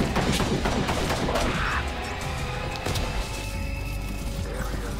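Gunfire in the VR wave-shooter game Fracked, a loud, continuous clatter of rapid shots and crashing impacts that fills the whole stretch without pause, with no voices over it.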